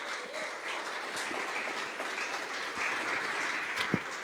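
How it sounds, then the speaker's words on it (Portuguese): A church congregation applauding the Lord during a sermon, a soft, distant, continuous patter of many hands clapping with a faint thump near the end. "Você pode aplaudir ao Senhor?"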